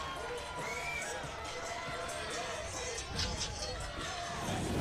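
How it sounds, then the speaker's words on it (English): A softball crowd cheering after a home run at a college game, a broad wash of distant cheering and shouting held steadily throughout, with a commentator talking over it. "The crowd goes wild as she drives it out of the park"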